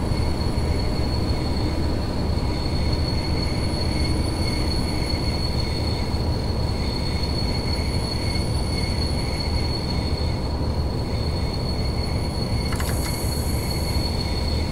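A BR218 diesel locomotive on a German line brakes toward a stop, a loud steady rumble of wheels and rail with sustained high metallic brake squeal tones, a sharper squeal rising near the end, without talk.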